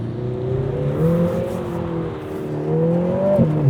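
Lotus Emira turbo engine under aggressive throttle, a steady in-cabin drone with tones climbing and dipping through gear changes, loud and continuous with no voices.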